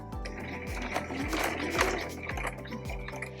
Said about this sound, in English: And then we'll just stitch straight down and all the way around.